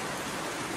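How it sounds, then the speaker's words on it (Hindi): Heavy rain pours outside as a dense, steady hiss with no breaks, loud and close throughout, with no voices over it. "पर बाहर में बहुत खतरनाक से बारिश दे रही है"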